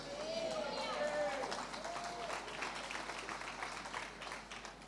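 An audience at a church conference claps, a moderate crowd applause that swells and then gradually thins, while a person's voice rises and falls over it.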